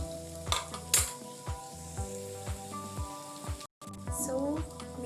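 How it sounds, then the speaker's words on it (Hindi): Onions fry to golden brown in a pan for palak kadhi, with a constant close sizzle and sharp periodic clinks and scrapes of a spoon stirring. "नाउ यू कैन सी ये मेरे गोल्डन ब्राउन अनियन हो रहे हैं"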